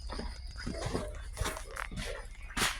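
Dogs whimpering and yipping in short, scattered bursts at moderate distance, over a low steady background rumble, with a sharper cry near the end.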